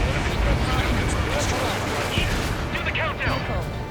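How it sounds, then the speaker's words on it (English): Dense explosions and gunfire from the Ace Combat 7 video game's aerial combat, booming continuously and loud with overlapping bursts, and urgent radio voices speaking over the barrage. "An explosion inside!"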